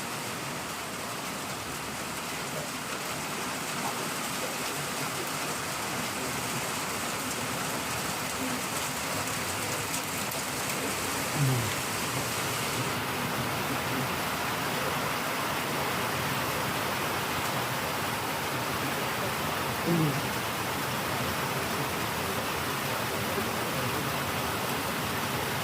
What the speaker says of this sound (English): now the rain on the tin roof ain't as peaceful.